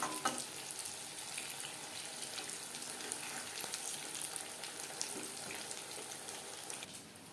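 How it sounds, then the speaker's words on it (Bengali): Vegetable chops fry in hot oil with a soft, steady crackling sizzle, close but quiet, with small pops and no talking. "3-4 বার উল্টে পাল্টে ক্রিস্পি করে ভেজে নিয়েছি"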